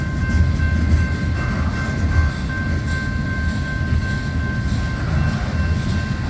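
A CSX freight train's cars roll past on the Old Main Line, including an old gondola and hoppers, giving a steady, loud rumble with faint rhythmic clatter and no voices.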